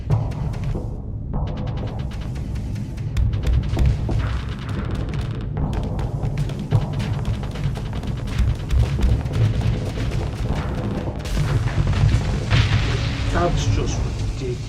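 Heavy spaceship weapons fire in Starsector's space combat, a dense barrage of booming blasts and bursts that rolls on continuously for several seconds, loud and layered with overlapping impacts.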